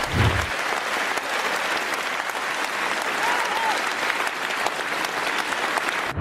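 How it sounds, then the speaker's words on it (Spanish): Sustained applause from an audience of about 1,500 filling an indoor concert hall, steady dense clapping throughout at an even level. "uno pone el pie en el escenario y escucha esos aplausos"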